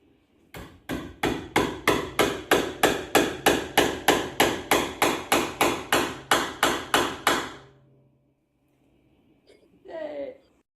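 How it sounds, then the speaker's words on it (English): Sharp hammer blows drive a nail into the neck joint of a Baroque violin, about twenty even, rapid strikes in a steady rhythm, loud and close, then a pause before a brief voice. "you can see me very, very confidently hammering in nail in the neck joint"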